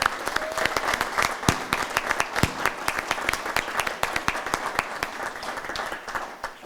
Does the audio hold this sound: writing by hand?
no